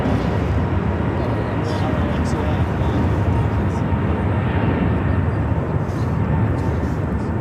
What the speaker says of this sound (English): the first A350 taken off here today